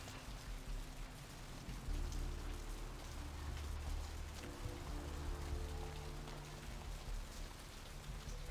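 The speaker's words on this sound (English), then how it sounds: "It's raining." Steady rain pattering on surfaces in the Vampire: The Masquerade - Bloodlines game, a constant soft hiss of drops with no talk over it.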